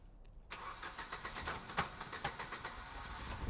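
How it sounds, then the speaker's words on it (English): An old car engine cranks and catches, bursting into a rough, rhythmic idle that chugs steadily and fairly loudly after a quiet moment. "I hold my breath until the engine turns over."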